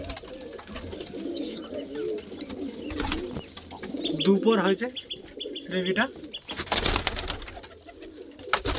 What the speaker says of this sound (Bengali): আর এটা আমার ধরা পায়রা, খুব ভালো ওড়ে